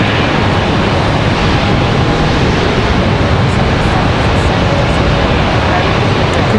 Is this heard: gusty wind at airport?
yes